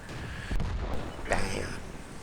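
A tank cannon fires in an online tank battle game, a deep booming shot followed by a second blast and rumbling echo, moderately loud over game noise.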